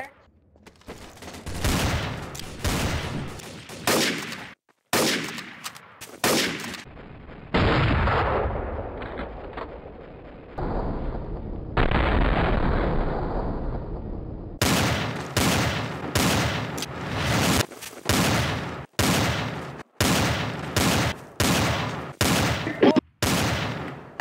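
Gunfire in the Trouble in Terrorist Town video game: loud, rapid shots in rhythmic bursts, with sustained firing in the middle and sharp repeated cracks toward the end, voices faint beneath.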